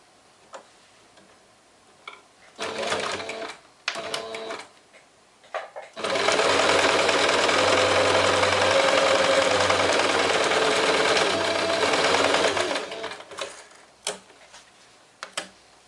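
A sewing machine stitches through layers of fabric and batting, starting with a few short bursts of fast ticking and then running steadily for about seven seconds before slowing to a stop. The sound is close and loud, with no talking.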